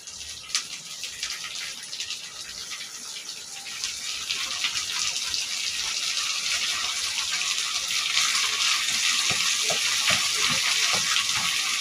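Drumstick leaves tossed into onions and garlic frying in a pan, a hissing sizzle that builds steadily louder and broader, with scattered crackles and pops over a continuous wash.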